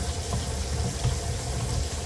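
A steady stream of running water pours from a kitchen sink faucet, a continuous even rush with no pauses.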